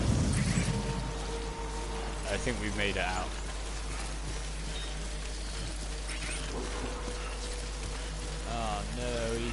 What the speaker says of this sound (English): this rain is destroying everything